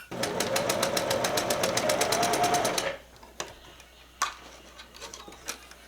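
A sewing machine runs fast and steady, stitching a binding band onto fabric with an even mechanical chatter for about three seconds, then stops, leaving a few soft clicks and handling noises.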